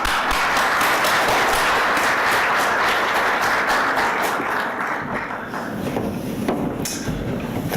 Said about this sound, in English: please welcome Derek with me and have a clap